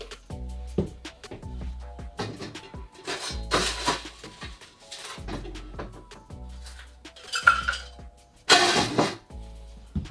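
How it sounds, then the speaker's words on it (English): Ice cubes clink and rattle as they drop into a cocktail shaker for a Mai Tai, several separate bursts of hard clatter with quiet pauses between them and no voices. "So get your shaker and put in 4 to 5 ice cubes."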